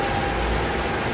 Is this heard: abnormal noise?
yes